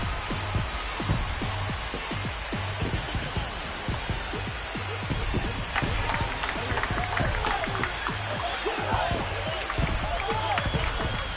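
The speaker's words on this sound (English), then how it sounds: "This crowd is on fire right now. They're going nuts thanks to that home run." A baseball video game crowd roars in a stadium after a home run, a dense, continuous wash of cheering and applause with a commentator talking over it throughout.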